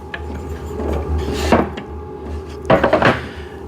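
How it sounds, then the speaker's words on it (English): A section of a VEVOR cycling desk is flipped over, giving a hollow wooden thump and then a cluster of clattering knocks close by. The knocks sound against a low steady room hum. "Let's flip this table piece over so you can see how the bottom looks."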